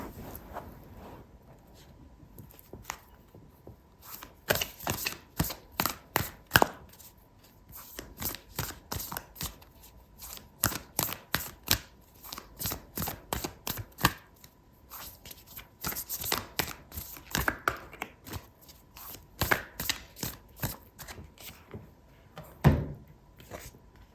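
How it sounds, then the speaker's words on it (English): Oracle cards for a tarot reading being shuffled by hand, with clusters of quick, crisp flicks and riffles that come in bursts with brief pauses between them, close and fairly quiet in a still room. "I'm going to pull out an oracle card for you"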